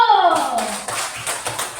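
Pupils in an Indonesian classroom lesson clap their hands together in a quick series of sharp, fairly close claps. A brief sliding vocal tone comes just before the claps begin.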